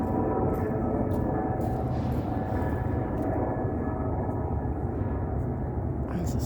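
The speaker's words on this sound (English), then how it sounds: "all these helicopters are flying around." A constant heavy rotor-and-engine drone of tour helicopters overhead in Las Vegas, loud and unbroken, with no other sounds standing out above it.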